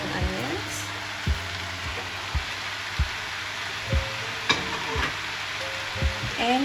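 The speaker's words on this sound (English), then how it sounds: "Then we will mix it together again on a high flame" Lo mein noodles with spring onions stir-fried over a high flame make a steady low sizzle, with regular clanks of a utensil against the wok about once a second, close by.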